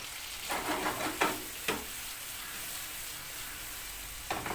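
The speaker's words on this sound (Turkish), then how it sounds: "Domatesleri dizdim. O yüzleri kızarsın öbür yüzlerini çevireceğim." Tomatoes fry in a couple of spoonfuls of oil in a pan, giving a steady soft sizzle with a few brief sharper crackles or clinks, heard close and alone without talk.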